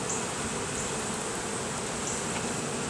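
Bees swarm with a dense, continuous buzz in a family room ceiling, steady and close, with no voices.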